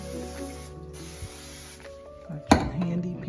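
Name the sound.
cooking spray on a heated waffle iron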